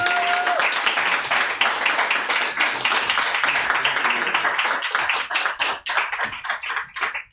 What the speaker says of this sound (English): Round of applause for homie Angel